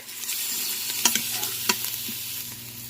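Turmeric, cumin and coriander powder sizzle softly in a hot Instant Pot, a low, steady frying hiss broken by a few sharp scrapes and taps of a spoon stirring the spices.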